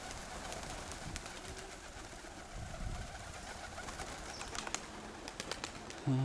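Pigeons coo softly in the background amid wind and outdoor noise, with occasional faint rustling.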